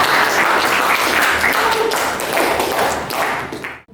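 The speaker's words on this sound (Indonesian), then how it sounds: "Oke, tepuk tangan untuk kelompoknya Raditya." Classroom applause for a student group: dense clapping from many hands fills the room close by, steady for a few seconds before cutting off abruptly.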